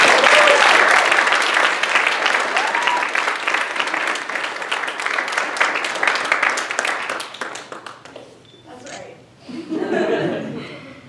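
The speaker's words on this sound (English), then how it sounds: "So if everybody just join me in a quick round of applause and a big thank you" A church-style keynote crowd, here at a Gullah/Geechee sustainability event, breaks into strong applause for about eight seconds, then it fades into chuckles and a speaking voice.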